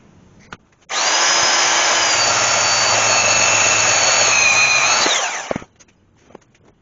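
Loud, close power tool cutting a metal clutch Z-bar, a steady high-pitched whine and grind lasting about five seconds before spinning down, with a few faint clanks before and after.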